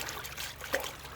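Water flowing steadily in a countryside stream or outdoor water source, a continuous soft trickling wash with one small splash midway, close by and moderately loud.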